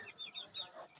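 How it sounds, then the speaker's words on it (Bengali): Chickens of several kinds, including local, white and tiger breeds, give a few soft, short clucks in quick succession, faint and somewhat distant, with no talk over them. "টাইগার মুরগি আছে, দেশি মুরগি আছে, সাদা মুরগি আছে"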